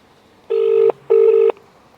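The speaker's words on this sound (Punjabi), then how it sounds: "ਹੁਣ ਅਸੀਂ ਫੋਨ ਕਰਾਂਗੇ" Two evenly spaced ringback tones sound over a phone line, each a steady buzzy tone about half a second long, loud and close with no talking.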